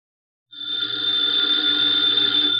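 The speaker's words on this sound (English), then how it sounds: "the ringing of that phone bell means mystery, adventure" An old-time radio drama telephone bell rings continuously after a brief silence, a bright, steady electric trill held loud and close until the end.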